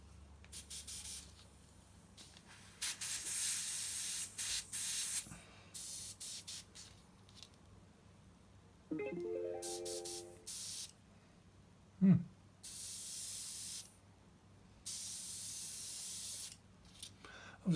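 Single-action airbrush spraying paint for a Tamiya 1/48 scale P-47D Thunderbolt Razorback model kit, heard as repeated short bursts of airy hiss that start and stop at close range, with a few brief clicks and knocks between them.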